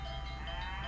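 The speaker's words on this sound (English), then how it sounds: "Hear that? That's the sound of happy cattle" Cattle lowing in a radio ad inside the Nancy Drew game The Secret of Shadow Ranch, a short drawn-out moo-like bleat, close and steady, with nothing else heard.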